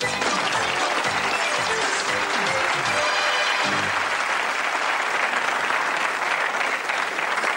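Studio audience applause on a 1987 German TV game show, loud and sustained dense clapping from the crowd throughout.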